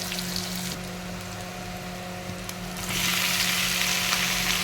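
Boiled vegetables frying with onions in a wok, a constant close sizzle that swells noticeably louder and hissier partway through, no voices.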